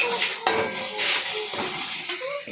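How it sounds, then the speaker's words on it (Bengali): Water poured into a hot pan of spiced fish curry with ground chilli and turmeric, giving loud bursts of steamy hissing and sizzling that rise and fade in waves, close up with no talking. "গরম হয়ে যাচ্ছে জল আর জল ঢেলে দিলেই মাছের ঝাল কমপ্লিট"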